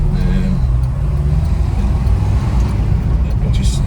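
A classic Ford Escort van drives along with a steady low engine drone and road rumble, continuous and close throughout.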